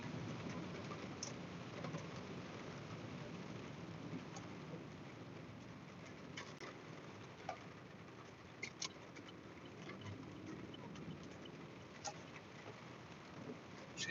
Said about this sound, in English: it's raining here in my town